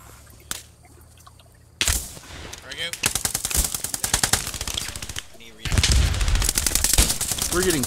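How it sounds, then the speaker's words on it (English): Rapid machine gun bursts in the World War II shooter game Post Scriptum, loud and close, with sustained rattling volleys and short pauses between strings of shots, voices talking faintly underneath. "There's an MG down the main road."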